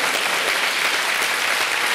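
A man applauding at a French television show, a steady dense patter of hand claps held at even loudness for about two seconds with no voices over it.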